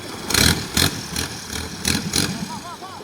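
A 4-cylinder turbo diesel engine with gears drives a local long-tail fishing boat, chugging at a low idle with rough, loud bursts every half second or so and faint whistling tones near the end.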